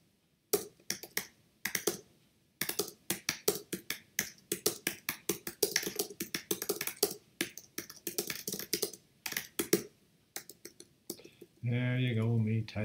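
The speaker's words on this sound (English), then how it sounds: "me typing madly and getting it wrong" Fast typing on a computer keyboard, rapid clicky keystrokes in bursts with short pauses. Close and dry, ending as a voice begins talking.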